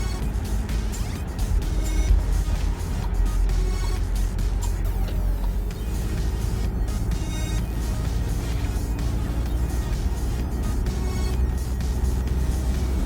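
Skoda Kodiaq driving on a road on a morning commute, a steady broadband rumble of engine, tyres and road noise heard from inside, continuous and even throughout with no talk.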